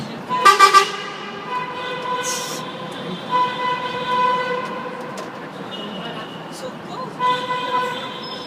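A vehicle horn gives a short burst of honks, followed by sustained tonal horn blasts over a busy traffic background with voices nearby.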